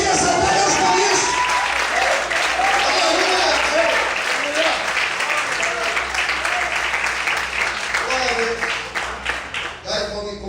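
Sustained applause from a church congregation fills the space at steady loudness for about ten seconds, with a few voices mixed in and a brief dip near the end.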